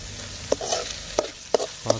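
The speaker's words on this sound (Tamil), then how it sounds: "நல்லா வதங்கிடுச்சு காளான்." Fresh mushrooms sautéing in a pan for a village-style gravy, a low steady sizzle marked by a few sharp spatula clinks and scrapes, close and alone.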